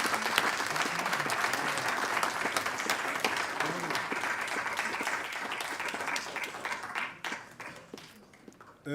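An audience applauds after the Mapungubwe Annual Lecture, a long, even round of dense clapping that thins out and tapers near the end, with faint murmuring voices.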